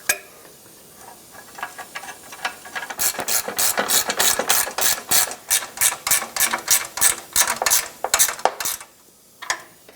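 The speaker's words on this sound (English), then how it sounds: "Let's get the front bolts in and tightened up." Rapid ratchet clicks in bursts tighten bolts on a 1997-2001 Lexus ES300 fuel tank, close and loud, with steady rhythmic strokes and brief pauses, no talking.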